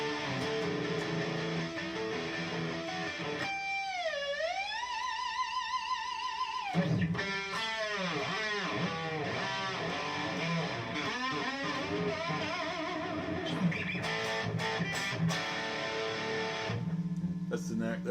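An Ibanez JEM77FP "Mr. Caterpillar" electric guitar played through distortion, switching between neck and bridge pickups, rings out with sustained bent notes and wavering melodic phrases, loud and close.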